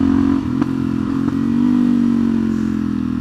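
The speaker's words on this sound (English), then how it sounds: "Just supermotos are just the best things," A Suzuki DRZ400SM supermoto motorcycle ridden along country roads near Finchdean and Rowlands Castle gives a loud, steady engine drone with slight throttle variations and a couple of faint clatters, close and continuous.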